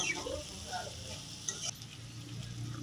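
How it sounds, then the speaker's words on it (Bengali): Potatoes fry in a pan with chopped garlic and onion and are stirred now and then, giving a steady close sizzle with a few scraping strokes and no voices. "এখানে আমি আলুগুলোকে ভালো করে ভেজে নিচ্ছি, সঙ্গে কুচিয়ে রাখা রসুন পেঁয়াজগুলোকেও"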